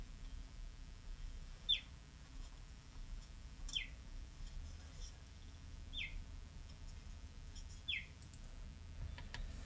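Cheetah chirping: four short, high, bird-like chirps evenly spaced about two seconds apart, fairly faint over a low, steady background rumble.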